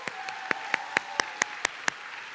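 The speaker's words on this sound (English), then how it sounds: "Let's please give a large and long round of applause for the talented Mariachi" Evenly spaced single claps, about eight within two seconds, ring out distinctly over a faint background at an awards recognition dinner, following a performance by a high school mariachi band.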